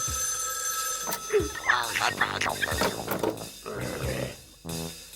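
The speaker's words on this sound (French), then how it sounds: "décroche ce téléphone, tu seras gentil." An old-style telephone bell rings in a cartoon scene, its trilling mixed with loud, busy animated sound effects and voices, fairly close and prominent.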